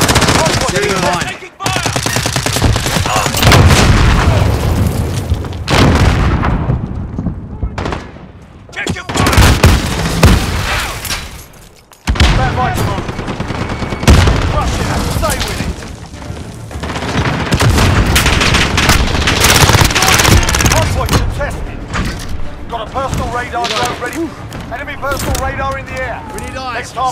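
Dense gunfire and explosions from a multiplayer Hardpoint match in Call of Duty: Modern Warfare, with sustained automatic fire, booms and bursts running nearly continuously and loud, while radio-style voices talk over the battle.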